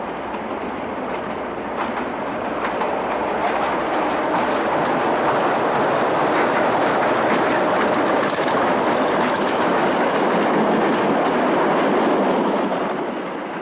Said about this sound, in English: An engineer's train heads east through Melton Mowbray.